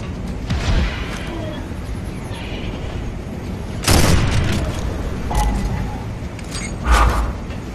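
A heavy boom from a grenade explosion in Gears of War Judgment hits mid-clip, followed by further blasts and gunshots in a loud, busy firefight.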